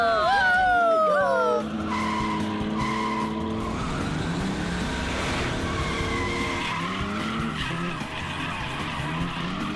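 Cartoon supercars racing, with loud tire skids and squeals sweeping down at the start, then steady engine roar and screeching tones running throughout under music.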